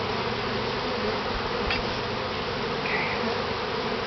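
Honeybees buzzing steadily during a honey harvest from a top bar hive, a dense continuous drone close by that stays level throughout, with no talking.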